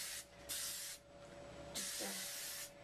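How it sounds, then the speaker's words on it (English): Several hissing bursts from a spray bottle misting curled hair, close and loud, separated by short pauses, with no talking. "I may spray it a little bit."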